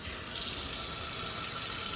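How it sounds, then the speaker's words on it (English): Cold tap water pours steadily into a sink over hot cooked pasta, a close, continuous hiss and splash with no voices. "I'm gonna put some cold water on it because I want it to be cold"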